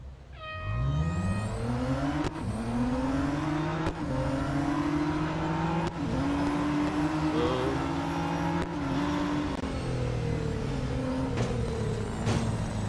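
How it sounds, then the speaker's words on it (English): In Real Racing 3, a Radical RXC race car engine winds up from low revs and holds a high, buzzy note with sharp clicks at each gear change, loud and steady throughout, without speech. "I'll tell you what I do like as well, the engine noise."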